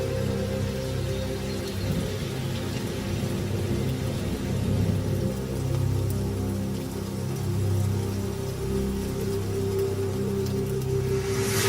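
Steady rain falls in the African bush at Mala Mala, a dense continuous hiss with a low rumbling bed beneath, constant and fairly loud throughout with no voices.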